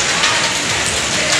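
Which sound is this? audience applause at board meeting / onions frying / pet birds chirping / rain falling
rain falling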